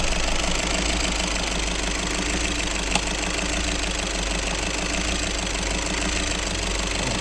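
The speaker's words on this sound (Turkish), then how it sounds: "aracımız şimdi yeni çalıştı. Yakıtta şu an hava var ve gördüğünüz gibi alver yapıyor" A vehicle engine just started with air in the fuel runs rough at idle, a loud, continuous uneven rumble with a steady knocking pulse throughout.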